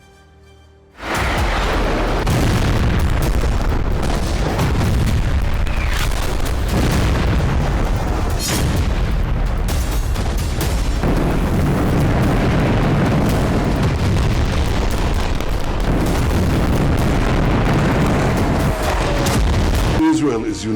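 Explosions from Israeli bombardment of Gaza, loud repeated booming blasts and rumbling bursts filling the clip after a quiet start, with heavy low-end roar and crackle throughout.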